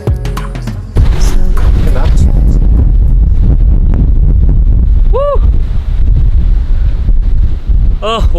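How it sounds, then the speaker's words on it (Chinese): Strong wind roars across a microphone on a mountain above the East China Sea near Yangshan, loud and buffeting throughout with a couple of brief whistling tones. "现在山上的风特别大"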